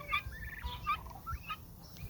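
Pet turkeys in a small backyard flock on a hot, humid Oklahoma morning give several short gobbling bursts, moderately close and fairly faint, over a steady low outdoor rumble.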